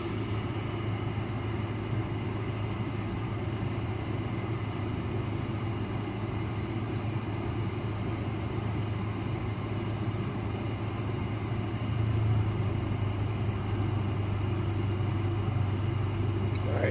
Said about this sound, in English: Alright, so it's changed how it's idling.